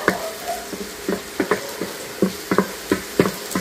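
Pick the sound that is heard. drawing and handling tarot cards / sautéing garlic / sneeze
sautéing garlic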